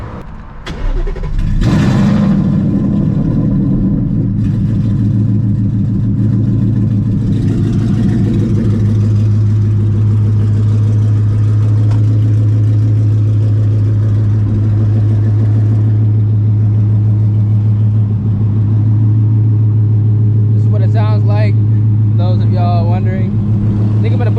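A Ford Mustang GT S650 with mufflers, close and loud, idles briefly, then revs up and pulls hard with a deep, steady engine drone that holds for most of the run, with a brief burst of speech near the end.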